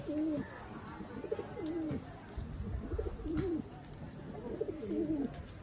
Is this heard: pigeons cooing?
yes